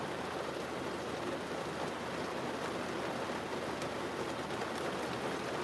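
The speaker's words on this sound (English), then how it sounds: "I'm about to go to a picnic, but this is just rain." Steady rain falls outside, a soft, even hiss of drops with no pauses, heard fairly faint and alone with no voices over it.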